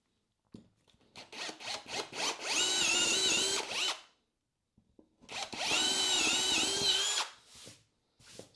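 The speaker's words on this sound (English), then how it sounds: "So I'll drill a couple of these now." A power drill with a chamfering bit bores holes in wood twice, each time rising from a few short pulses into a sustained whining cut, then stopping, close and fairly loud.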